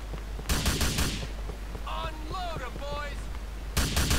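Bursts of rapid gunfire in Grand Theft Auto IV open and close the clip, with a short quieter stretch of tonal game sounds and chatter in between.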